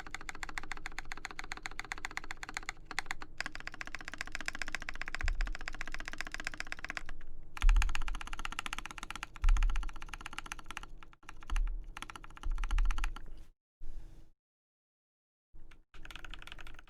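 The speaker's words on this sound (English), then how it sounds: "All Holy Panda keyboards sound pretty much the same." Fast typing on a mechanical keyboard with Holy Panda switches, close and clear, a rapid stream of crisp clacks and deeper spacebar thocks broken by short pauses.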